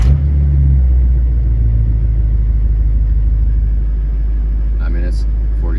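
A car engine fires and settles into a loud, steady low rumbling idle, close by, with a faint voice briefly near the end.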